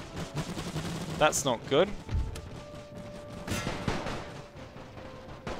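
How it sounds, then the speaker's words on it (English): Machine gun fire in The Great War 6.0 strategy game on the Austro-Hungarian front, short distant bursts and thuds scattered across the clip beneath someone talking and other battle noise. "they have one functioning machine gun back here"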